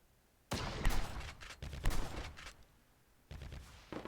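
Bursts of rapid gunfire from a shooter video game played in a 2v2 community tournament, loud clustered volleys with brief gaps, then a second stretch of shots after a short pause.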